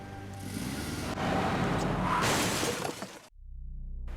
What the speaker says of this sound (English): a vehicle nearby comes crashing in and strikes Simon